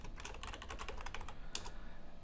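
Steady typing on a computer keyboard in a text editor, a fast, continuous patter of soft key clicks over a low background hum, with one sharper keystroke near the end.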